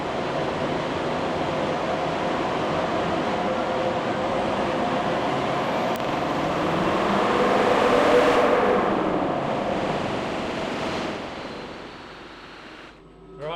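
A Land Rover 300 Tdi 110 diesel engine running on a dyno, a loud continuous drone that swells as revs climb toward the middle and then falls away near the end, no talking.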